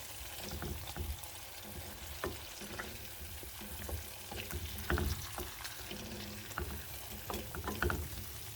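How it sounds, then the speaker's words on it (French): A Tunisian sauce simmers in a pot with a soft, steady sizzle and bubbling, faint and close, broken by occasional clicks and stirring scrapes, with no talking. "Et je la laisse mijoter bien."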